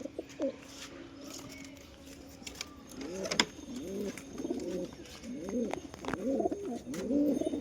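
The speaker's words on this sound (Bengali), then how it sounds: "আর এটা হচ্ছে মাদি, বাড়ির কবুতর, একবার দুর্দান্ত কবুতর।" Giribaz-line house pigeons cooing in a series of soft, repeated throaty coos, getting more frequent and a little louder toward the end, with faint background clicks and no talking.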